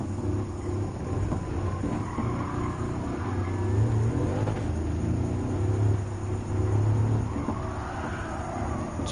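A heavy hypercar cruises steadily on track in the Gran Turismo 7 racing game, a low continuous engine drone and rumble with mild swells in pitch, no voices.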